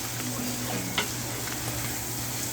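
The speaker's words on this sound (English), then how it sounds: "I'm gonna mix this gently" Potatoes being gently mixed in a pan, a steady soft sizzle of frying with a faint utensil scrape partway through, close and continuous, no voices.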